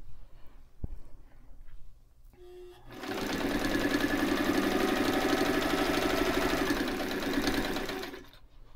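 A White 173 sewing machine stitches steadily and loudly for about five seconds, a fast continuous mechanical whir with rhythmic needle clatter. Quiet handling noises come before it, and it then slows to a stop.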